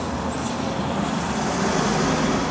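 Another car goes by on the road, a fairly loud, steady rush of tyre and engine noise that builds slightly toward the end, with general traffic hum and no voices.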